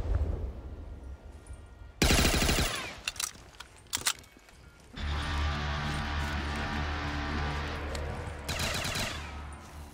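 Cannons fire in a pirate video game, with a loud booming blast around two seconds followed by a sustained rumbling burst of game action and a second volley near the end, without speech.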